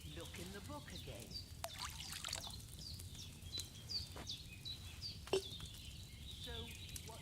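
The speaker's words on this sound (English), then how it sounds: "So, what did you pour in there? Water." Water trickles and pours into a container in Kingdom Come Deliverance 2, a faint liquid splash heard under ambient birdsong and soft chirps in the background.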